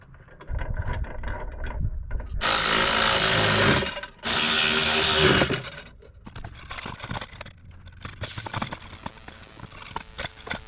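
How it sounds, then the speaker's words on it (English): A power tool drives bolts while parts are fitted to a Nissan 350Z in a garage, with two long loud whirring bursts followed by clattering, ratcheting mechanical noise, close and busy, no talking. "I'm gonna have to bolt these on first."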